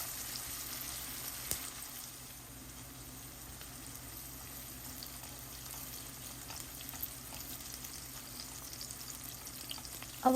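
Chopped capsicum fries with egg noodles in a pan over home-kitchen heat, giving a faint, steady sizzle with light stirring scrapes and a brief clunk at the end, with no talking.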